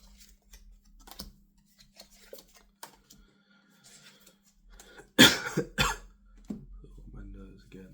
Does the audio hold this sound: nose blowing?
yes